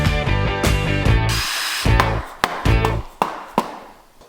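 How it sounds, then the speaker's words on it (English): Power tool, likely an impact driver, loosening the cylinder head bolts on an engine being rebuilt: a loud buzzing run, then several sharp percussive hammering bursts separated by short pauses. "So we asked Barry what the sequence was for taking off the head bolts"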